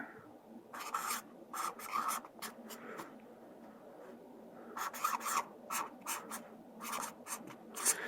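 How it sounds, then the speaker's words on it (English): A pen scratches out words on a drawn circle, close and quiet, in short bursts of rasping strokes with pauses between groups, against a faint room background; no talking. "on this first circle, we're going to write"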